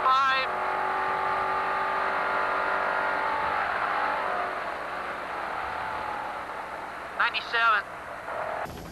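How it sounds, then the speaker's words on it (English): A Toyota Pro Truck races at high speed toward the pits during the desert off-road Parker 425, its engine roaring steadily and loudly, with a commentator talking over it and a brief burst of speech near the end. "This is Toyota's Rick Johnson speeding, and I do mean speeding, to get to those same pits."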